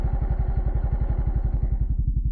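A scooter engine putters close by on a steep road, its rapid, even pulses steady for about two seconds before cutting off abruptly.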